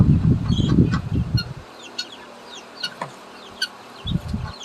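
Chickens cluck in a coop at feeding time, with soft, scattered calls and chirps near and far. Bursts of low rustling and movement come at the start and end, with quieter clucks between them.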